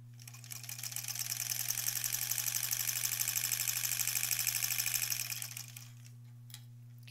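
A sewing machine stitches the final seam of a granny squares quilt back, a steady close whir running continuously for about five seconds before stopping, followed by a low hum.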